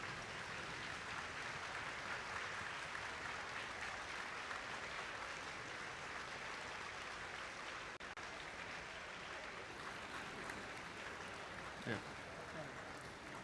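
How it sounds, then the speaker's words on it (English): Students at a district event applaud their coaches and mentors, a broad, steady wash of clapping from a large crowd heard from a distance, faint and continuous throughout. "So please, students, stand up and clap and applaud your coaches and mentors."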